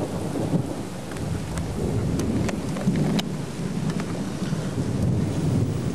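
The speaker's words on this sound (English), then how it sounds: "That bolt of lightning struck right there." Thunder rumbles through a severe thunderstorm with hail after a nearby lightning strike, a loud continuous low roll with sharp crackles mixed into steady heavy rain, no voices.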